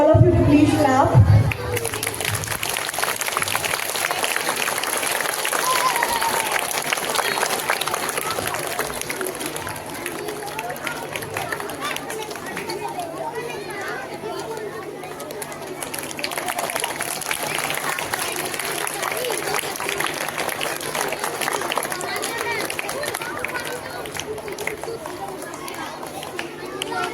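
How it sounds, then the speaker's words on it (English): A large audience claps steadily at a school Independence Day ceremony, a dense, sustained wash of applause mixed with crowd chatter that carries on for about half a minute without stopping. "I would request all of you to please clap."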